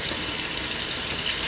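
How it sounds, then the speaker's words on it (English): Cold tap water runs rapidly over a cured salmon fillet as the salt is rinsed off, a steady, loud gushing splash into a sink with no talking. "This water's moving around like this, rapid. We're gonna go cold water."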